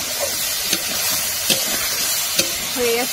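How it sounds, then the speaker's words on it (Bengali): Prawns fry in a hot wok (kadai) with a steady, close sizzle, while a spatula scrapes and stirs in three or four brief knocks. A faint voice is heard near the end. "চিংড়িগুলো ভেজে নিচ্ছি, কড়াইতে দিয়ে দিয়েছি"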